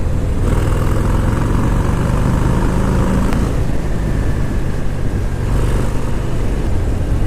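Harley-Davidson FXDR 114, a 2019 motorcycle, running loud and close on the road, its deep engine rumble steady throughout with a couple of slight throttle swells and heavy wind noise.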